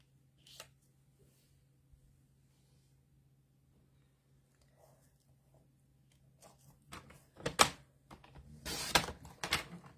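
Paper trimmer slicing a piece of card, heard as a short burst of sharp scraping and rasping cuts after a long quiet stretch, close and fairly loud.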